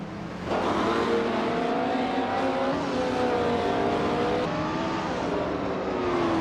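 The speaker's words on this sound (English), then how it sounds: "Taknasty's driving a 1970 Ford Mustang Boss 429, which is known for its big engine and muscle car attitude." A 1970 Ford Mustang Boss 429 big-engine muscle car racing in a video game, with its engine roaring loudly and steadily, pitch climbing and dropping through gear shifts.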